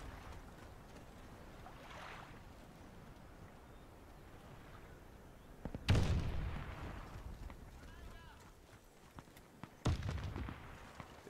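Gunfire in the shooter game Warface on a dock map: two sharp, loud shot bursts stand out about four seconds apart over a steady background of ambient game noise and fainter distant shots.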